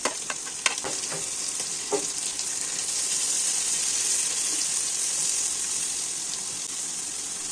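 Carrots, capsicum, cabbage and chilies stir-fry in a pan for chicken fried rice, a few sharp stirring clatters early, then a steady loud hissing sizzle close by with no voices.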